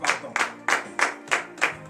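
A church congregation at morning prayer applauding, six bursts of rhythmic hand claps in a steady beat, close and fairly loud.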